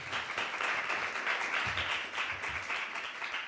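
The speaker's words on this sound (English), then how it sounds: "let's go for a warm round of applause and start the panel." An audience at a migration conference applauds warmly as a panel begins, a sustained, even patter of many hands clapping, heard from a moderate distance with no speech.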